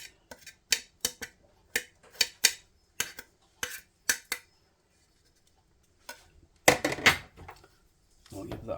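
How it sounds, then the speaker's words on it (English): Corned beef going into a pan for hash and being mixed: a run of sharp metal utensil taps and scrapes, then a brief rushing burst as the meat drops in, with a low sizzle starting at the end. "So I'm going to add the corned beef now."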